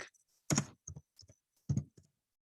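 Typing on a computer keyboard, a few separate bursts of key clicks with pauses between them, close and clear against a silent background.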